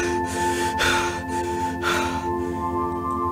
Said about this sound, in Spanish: esa respiración tan profunda viene de detrás de la puerta